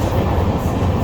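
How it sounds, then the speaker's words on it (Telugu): A train on the Vivek Express route rumbles past on a single-line section near a station crossing, a loud, close, heavy roar of wheels and carriages filling the whole short moment. "ఇదేదో ఒక స్టేషన్లో మనకి ఎదురు ఇంకో ట్రైన్ వస్తుంది."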